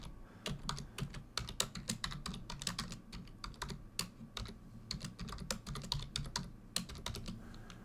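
Quiet, rapid keystrokes on a computer keyboard type out Lua code, a steady patter of close, light clicks with brief irregular pauses and no voices.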